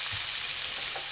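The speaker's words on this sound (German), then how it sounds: "Das beides könnt ihr jetzt jedenfalls erstmal ein paar Minuten schön anbraten, bis sich auch ein bisschen Röstaromen gebildet haben." Seitan pieces, fried together with fennel, crackle in a hot pan, a close and steady sizzle with a few soft stirring thuds and no voices.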